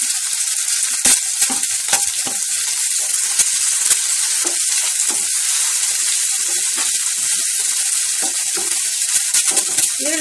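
Onion frying in a pan with green chilli, a loud, steady hiss and crackle filling the whole stretch, broken by occasional sharp pops and light stirring clicks, with no talk.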